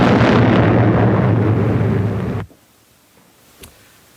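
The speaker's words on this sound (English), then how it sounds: "The captain gives the order to open fire." Ship's guns open fire in a 1930s-40s British propaganda film, a loud roaring blast that rumbles for over two seconds, cuts off abruptly, and is followed by near silence and one faint distant thump.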